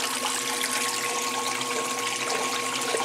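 A 1996 Maytag Dependable Care Plus washing machine on a delicate cycle draining its water. A steady pump hum runs under a close, continuous gurgle and rush of liquid, with no talking.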